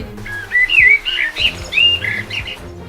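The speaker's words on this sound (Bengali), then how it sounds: "এই বনের গরিব পাখিদের জন্য দেখছি শান্তি করে একটু বিশ্রাম নিতে পারছি না" Birds chirping in a forest, a close, loud run of bright tweets and short whistled calls in quick succession, with no talking.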